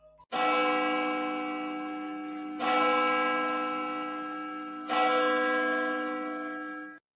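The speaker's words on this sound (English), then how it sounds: "Can we drop a church bell for them" A church bell tolls three times, each deep ringing strike swelling then slowly decaying into the next, loud and resonant with no other sounds.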